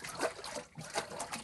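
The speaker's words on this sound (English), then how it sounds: "So as I make waves here, the waves go through the chamber" Small water waves sloshing and trickling through the chamber of an oscillating water column wave-power model, soft and close in irregular rolling surges, with faint talk in the background.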